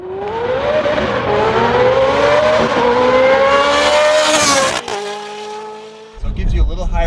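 Straight-piped Mercedes C300 with an X-pipe, revving loudly and close: the exhaust note climbs steadily for several seconds, then cuts off abruptly before a rougher burst at the end.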